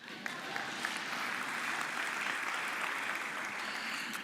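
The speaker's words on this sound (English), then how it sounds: "And another round of applause for the MC," Applause for the MC at the CGIAR Science Week closing ceremony: a full, even burst of many hands clapping together, sustained at a steady level throughout.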